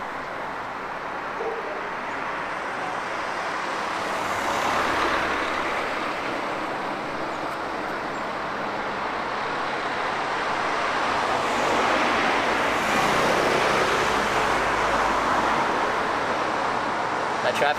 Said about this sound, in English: That traffic noise though, it's all part of the hitchhiking experience.